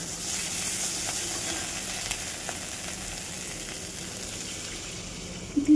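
Spice masala with turmeric and salt frying for a fish curry, an even close sizzle with faint stirring taps that holds steady, ending in a couple of louder clunks.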